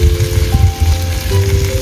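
Chicken pieces sauté in a hot pan for a creamy chicken curry, giving a loud, close, continuous sizzle with faint crackles and no talking.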